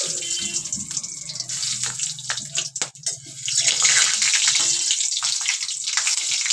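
Whole bay leaves, cardamom pods, cloves and cinnamon sizzle in hot oil and ghee for a vegetarian masala paneer, a steady bright frying hiss with a brief clatter midway before the sizzle swells louder.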